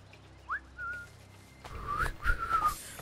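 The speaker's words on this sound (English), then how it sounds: "Wait, that whistle was the same as Haytham!" A character in Assassin's Creed 3 gives a two-part whistle, a short rising note and then a longer sliding call, followed by a louder, rougher stretch of whistling over game ambience.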